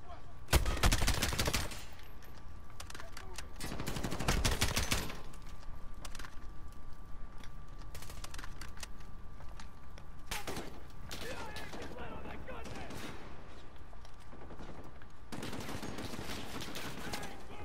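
Bursts of automatic and single gunfire from Call of Duty Modern Warfare, loud clustered volleys separated by quieter gaps, with in-game sounds filling the pauses.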